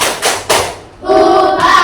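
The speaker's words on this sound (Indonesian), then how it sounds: "Tepuk tangan buat kelompok ayam." A group claps hands in a few sharp, bursting rounds, then voices rise together in a loud chant-like call.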